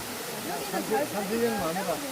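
A forest waterfall gives a steady, broad rushing hiss, moderately loud and continuous, while a person talks over it in the foreground.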